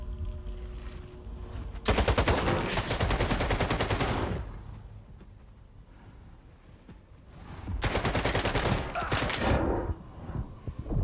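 Rapid automatic gunfire in S.T.A.L.K.E.R. 2, two long dense bursts of rattling shots separated by a quieter stretch, fairly loud against a low ambient background.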